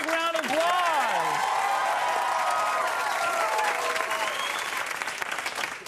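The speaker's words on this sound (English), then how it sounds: "Give him a big round of applause." Studio audience applause on a hidden camera comedy show, a dense steady wash of clapping with cheering and voices over it, staying loud for the whole stretch.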